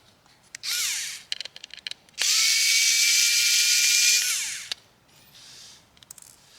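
An electric screwdriver whirs in two bursts while removing screws from a Cat S62 Pro phone during teardown, a short whine then a longer steady one, with small clicks and taps between, close and clear.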